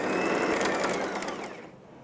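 A sewing machine stitches fabric for a scarf, its steady fast mechanical whir running loud and close before slowing and fading at the end.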